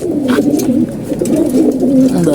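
Pigeons coo close by in continuous low, rolling, overlapping calls with no speech.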